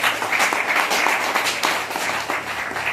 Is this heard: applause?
yes